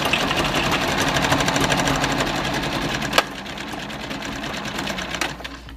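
A sewing machine runs a zigzag stitch down the side of a fabric seed storage bag, with a fast even mechanical chatter for about three seconds before the motor slows and the stitching trails off into lighter clicks.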